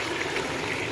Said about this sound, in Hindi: अब इसके अंदर मैं पानी डालूँगी।